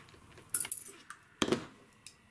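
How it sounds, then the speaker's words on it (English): Side cutters snip aluminum tabs off lithium-ion batteries, giving two sharp metallic snaps with light clinking rattles after each, close and otherwise quiet. "I'm gonna take some side cutters and cut off these aluminum tabs"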